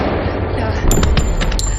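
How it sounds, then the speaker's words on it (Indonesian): A burst of rapid gunshots erupts midway, several sharp cracks in quick succession over a rumbling cinematic background. "akan tetapi dengan seketika mereka pun saling tembak"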